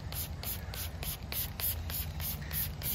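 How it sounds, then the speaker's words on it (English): Short bursts of aerosol degreaser hiss in quick rhythmic pulses, sprayed close up onto a bicycle cassette, chain rings, chain and derailleur. "spray it all over the cassette, chain rings, chain derailleur"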